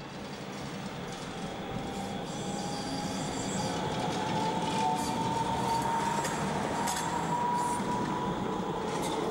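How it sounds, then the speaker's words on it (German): A Bombardier Flexity NGT8 tram runs on its tracks in Dortmund, a steady rolling rumble with a faint wheel squeal that swells slightly as it passes, with no voices. "Im Einsatz sind NGT8 von Bombardier. Die Fahrzeuge vom Typ Flexity sind seit 2007 in Dortmund auf den Gleisen."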